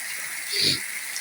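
Heavy rain pours down in Jaffna with some wind, making a steady, dense hiss throughout; a faint voice briefly rises beneath it.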